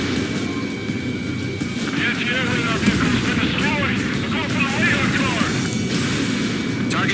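Anti-aircraft guns pound away steadily in a war video game, a dense, continuous rumble of booming fire with whistling tones threaded through it, while voices speak over the barrage.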